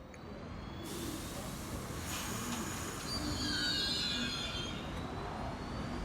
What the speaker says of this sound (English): right now you're looking at the F train